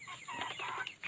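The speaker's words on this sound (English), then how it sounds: "Chicken." A chicken clucks nearby during yard cleaning of dry leaves, a short burst of soft, nasal clucks rising and falling, fairly quiet and alone without speech.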